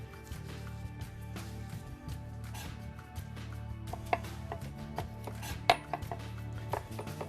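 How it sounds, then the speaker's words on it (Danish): A knife taps rapidly against a cutting board, finely chopping shallots in quick, uneven chops, close and fairly quiet, over a low steady hum. "Jeg simpelthen hakker løget helt fint."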